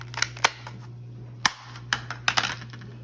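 A UKARMS P238 spring airsoft pistol firing 6mm BBs produces a series of sharp, close snapping clicks at irregular intervals over a quiet background hum.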